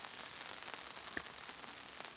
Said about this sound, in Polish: a deszcz cały czas pada